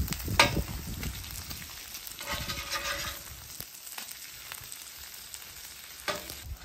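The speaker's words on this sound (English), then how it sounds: "I'm probably gonna put it on the grill now and start that rendering" Steak fat sizzles and renders on a breakfast griddle, a soft, close crackle with a few light clinks and scrapes.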